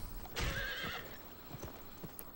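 A horse whinnies once near the start in the video game Gun, followed by soft clip-clopping hoofbeats, quiet and close.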